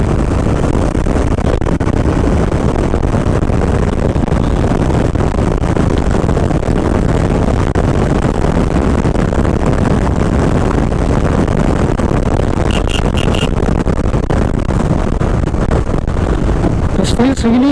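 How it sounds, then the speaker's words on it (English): Engine of a 2021 Royal Enfield Meteor 350 Supernova motorcycle pulling hard down an open road, a steady low rumble buried under constant loud wind buffeting on the microphone throughout. "let me find a clear section on the road and we can just launch the bike."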